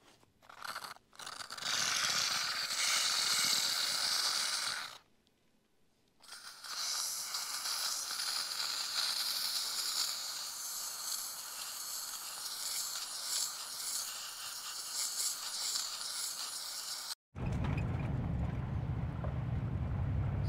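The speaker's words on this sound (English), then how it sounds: "Now I'm going to steam it." A steam cleaner hisses steadily at a degreased throttle body on a 1985 Pontiac Fiero GT, a loud broadband spray with a brief pause midway and a sharp cutoff near the end, followed by a low rumble.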